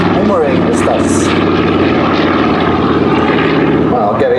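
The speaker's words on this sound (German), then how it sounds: "From Commonwealth Aircraft Corporation of Australia, the CA-12 Boomerang." A Commonwealth CA-12 Boomerang propeller fighter airborne at an airshow, its engine droning steadily and loudly throughout, with a commentator talking over it.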